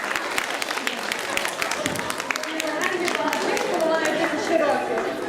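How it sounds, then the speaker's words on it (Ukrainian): Audience applause at a school-style event, scattered claps growing into denser clapping over a few seconds with crowd chatter and voices underneath. "Зустрічаємо їх оплесками."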